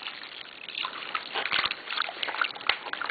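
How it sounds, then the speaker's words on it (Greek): Water trickling and splashing into a bowl holding yeast and sugar, a thin uneven pour with small drips and sloshes, fairly quiet and close, with no talking. "τώρα είμαστε έτοιμοι να προσθέσουμε το νερό για να λιώσουμε πάρα πολύ καλά τη μαγιά μας"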